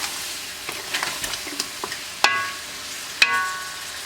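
Chicken pulao ingredients sizzle and fry in a cooking pot while a utensil stirs them, with scraping strokes and two sharper metallic knocks against the pot.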